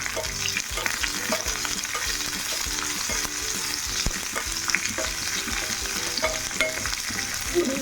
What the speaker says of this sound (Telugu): చిల్లీని వేసుకొని వేపాలి.